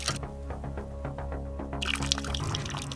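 Water splashing and pouring from a hand pump tap, with rhythmic splashes and a steady tonal hum beneath, turning to a brighter, noisier gush near the end; fairly faint and close, with no talk.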